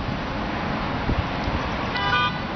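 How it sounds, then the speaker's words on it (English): A car horn honks from the street below, a short tooting burst near the end, faint and distant under a steady roar of city traffic noise. "a nervous motorist honks from below"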